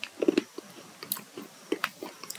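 Close, dry crunching of a chewable Forever Lycium Plus tablet made with goji and licorice, a quick burst of bites followed by scattered softer chews and clicks, alone with no talk.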